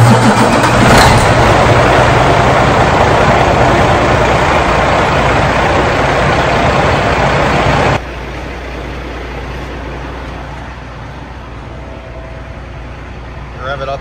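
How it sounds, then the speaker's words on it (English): A truck engine runs loud and steady while being revved to build air pressure in a shop, then drops to a lower, quieter idle partway through. "Rev it up just a little bit and it'll build air a little faster."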